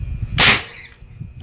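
A single sharp firecracker pop, loud and close, followed by brief crackling decay over low background noise.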